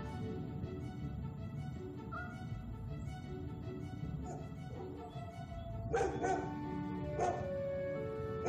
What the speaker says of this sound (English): Ooh, another dog.